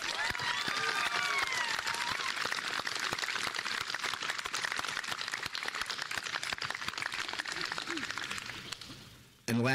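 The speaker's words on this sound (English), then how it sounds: "Graduates, please join me in thanking them with a round of applause." Graduates and guests applaud at a university commencement ceremony, with steady clapping from a large crowd that fades toward the end while a voice carries over it.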